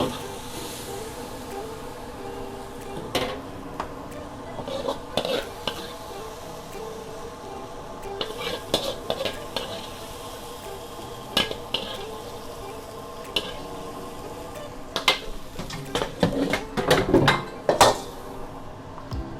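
Cooked Thai food being scooped into a takeaway box, with repeated scraping and clinking of a spoon against a pan and container, light sizzling underneath, and quiet stretches between the scoops.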